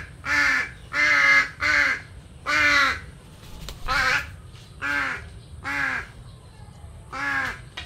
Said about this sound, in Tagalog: Kaya naman po yung uwak na maingay ang nanghihingi kay Tilat ng pagkain.